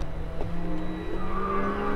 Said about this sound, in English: The Aston Martin DBS.